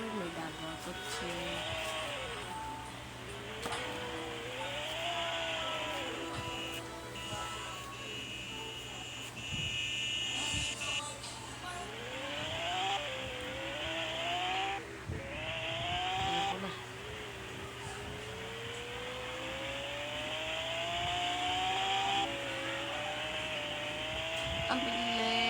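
A new car accelerating hard with its turbo spooling, engine pitch sweeping upward in repeated rising runs through the gears, heard at moderate distance with a steady hum beneath and people talking over it.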